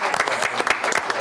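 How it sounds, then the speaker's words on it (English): Brief burst of audience applause at a city council meeting, dense close clapping from a room full of people, loud and steady. "We should give them a round of applause, don't you?"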